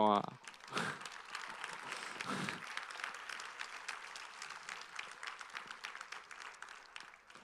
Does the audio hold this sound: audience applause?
yes